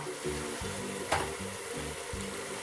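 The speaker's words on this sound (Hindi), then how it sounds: "अब मसाले में थोड़ा सा पानी डाल के 1 मिनट भूनें" Ground spices, Kashmiri red chili, turmeric, coriander and cumin, sizzle steadily in hot oil in a pan for mutton rogan josh, with close, rhythmic stirring strokes and one sharper scrape, and no voices.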